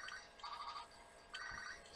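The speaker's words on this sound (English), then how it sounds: "I'm going to ignore that phone call" A telephone rings in a Pokémon SoulSilver game: a faint electronic ringtone sounds as two repeated trilling bursts.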